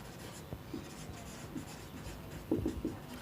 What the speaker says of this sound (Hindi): यहाँ पर लिखेंगे वर्टिकली